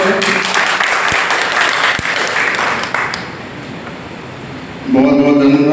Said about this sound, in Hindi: बहुत बहुत धन्यवाद ताली बजाने के लिए